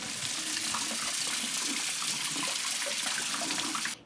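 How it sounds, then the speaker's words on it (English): Tap water runs steadily into a sink as raspberries are rinsed, a close, loud, even splashing rush that stops abruptly at the end. "I'm just going to wash the raspberries so they're clean."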